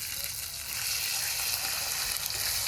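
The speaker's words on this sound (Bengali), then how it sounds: "এখন এই তেলে আদা বাটাটা অল্প কষিয়ে নেব" Crushed ginger paste frying in oil in a pan, a continuous bright sizzle held at an even, fairly loud level throughout.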